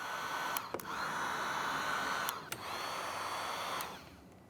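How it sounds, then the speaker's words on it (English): A heat gun warms a chrome delete vinyl wrap on the grille of a 2018-2021 Chevrolet Traverse, giving a steady, close blower whoosh with a few sharp clicks before it tapers off near the end. "I'm just going to grab my heat gun and slowly work it out, making sure I don't create a crease"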